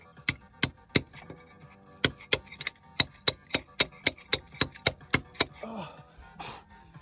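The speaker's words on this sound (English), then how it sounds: "Look at my hammer skills." Nails are hammered while lead step flashing is fitted on a roof. About twenty sharp, close strikes come in quick, fairly regular runs, and a brief voice follows near the end.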